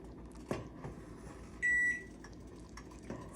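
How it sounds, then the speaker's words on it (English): A kitchen timer beeps once in a steady tone lasting about a third of a second, heard over the faint clatter of a kitchen while rice pudding is made. "That was the timer, meaning that there's 1 more minute remaining."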